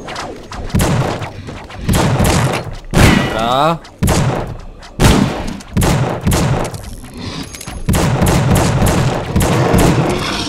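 Gunfire in the video game The Suffering cracks out in bursts of loud, sharp shots with short gaps, while a person speaks briefly between the volleys.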